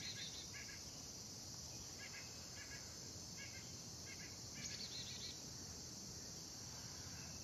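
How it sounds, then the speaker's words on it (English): Birds chirp in short repeated bursts outdoors on a summer day, faint and fairly distant, over a steady high insect or cricket drone and soft background hiss. "Letting the bird song come to you as inspiration."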